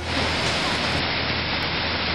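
Steady, loud broadband rush of a brook swollen to flood stage by Tropical Storm Irene in Vermont, a continuous roar of churning water with no breaks and no voices.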